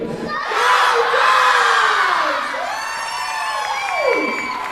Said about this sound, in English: On the count of 3, let's cheer for them.